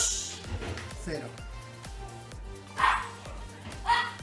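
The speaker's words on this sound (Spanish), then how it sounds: "Los perros ladrando, chicos." Dogs bark repeatedly in short, sharp yips and bow-wows, several bursts spaced across the moment, with a louder pair of barks near the end and voices talking underneath.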